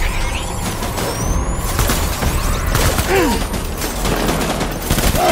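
Gunfire and combat in the video game Death Stranding, a dense loud barrage of shots and clatter filling the whole stretch, with no clear talk.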